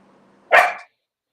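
A dog gives a single sharp, loud bark close by, following a faint low hum, with silence after.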